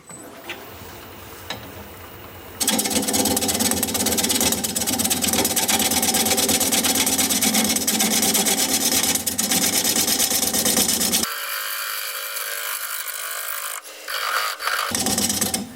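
A dull turning tool cuts spinning wood on a lathe, a loud continuous rough scraping over the motor's hum that runs for several seconds before dropping to the quieter whir of the lathe alone.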